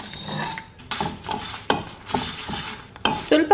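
Coriander, cumin, pepper, fenugreek and urad dal dry-roast in a pan, stirred with a spatula that scrapes and knocks against the metal in a few uneven strokes, close up.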